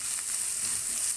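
Chopped onions and two green chillies fry in oil for pepper chicken, giving a brief, steady hiss of sizzling heard close up without any voices.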